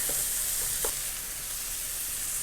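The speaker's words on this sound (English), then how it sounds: "I'm cooking this in a medium-high heat. I like to brown" Pork browns in a pan over medium-high heat, giving a steady close sizzle broken by a few quick clicks of stirring.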